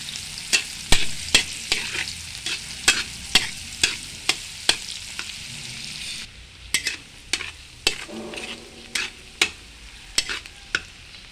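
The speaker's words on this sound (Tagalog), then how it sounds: "At ilagay na natin yung dairy cream butter." Dairy cream butter sizzles steadily in a hot pan while a utensil stirs and scrapes it in a regular series of sharp, close clicks and knocks; the frying hiss drops briefly midway, then the rhythmic stirring carries on over it.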